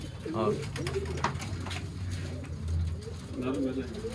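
Racing pigeons kept for tournaments coo in low, rolling bursts close by, recurring through the clip while people talk over and between them.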